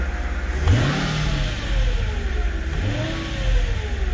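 A Mercedes engine idles, then revs up and back down twice as the accelerator pedal is pressed, pitch rising and falling with each press, close and fairly loud.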